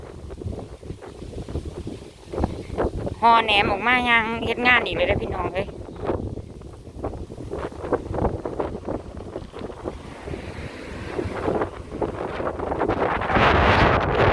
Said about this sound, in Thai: เสียงลมวีวีอยู่